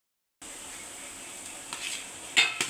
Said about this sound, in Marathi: मग आपण खिसलेले बटाटे टाकूया